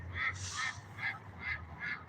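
Ducks quack outdoors in a run of five fairly close, nasal calls at a steady pace, heard alone without talk.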